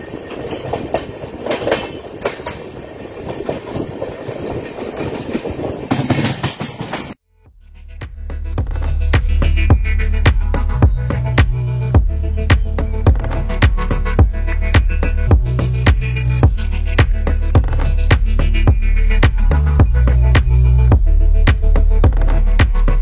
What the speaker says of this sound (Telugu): గూడూరు స్టేషన్ నుండి అయితే మన ట్రైన్ అయితే బయలుదేరిపోయింది